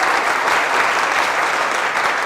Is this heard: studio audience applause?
yes